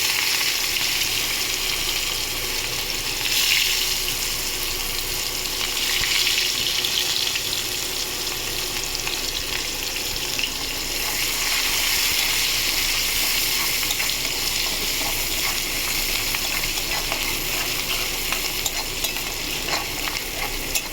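Onions frying in mustard oil in a pan for a mustard-paste katla fish curry, a steady close sizzle with occasional stirring scrapes running continuously without talk.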